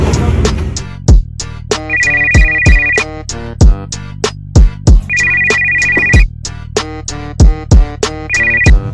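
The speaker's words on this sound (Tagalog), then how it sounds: "Tatawagan ko muna si OG Sargol para mas maganda." A phone plays a loud, rhythmic ringtone as a call is placed, with repeated percussive hits and recurring bright tonal beeps looping without pause, heard alone at close range.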